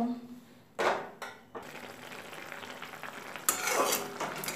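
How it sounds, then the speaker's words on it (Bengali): Bitter gourd and potato poppy-seed curry is stirred in a pan after water is added. Close scraping strokes and spoon knocks ring out over a low, steady sizzle, with a louder stirring burst near the end. "জল দিয়ে আবার ভালো মতো নাড়াচাড়া করে দেব ভালো মতো নাড়াচাড়া করে ফার্স্টে ঝোলটাকে ফুটিয়ে নেব"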